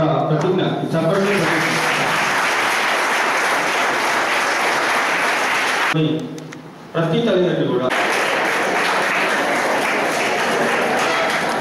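Loud, dense applause rolls through an outdoor road safety awareness rally crowd, with a brief dip midway and a voice heard over the clapping at the start and middle.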